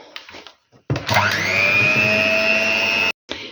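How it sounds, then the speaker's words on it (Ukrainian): An electric mixer whipping sour cream with powdered sugar whirs steadily at high speed for a couple of seconds, starting and stopping abruptly, with quiet clinks around it. "Буду тепер збивати."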